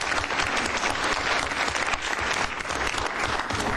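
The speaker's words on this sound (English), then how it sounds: "We'd like to recognize you and give you a round of applause." A council meeting audience gives a round of applause, steady dense clapping that fills the room throughout with no talk over it.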